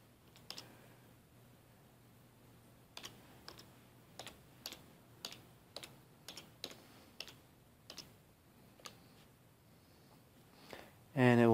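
Typing on a computer keyboard to look up word definitions in Google Search: a dozen or so sharp, separate key clicks in an uneven rhythm over quiet room hiss, ending with a sudden louder sound.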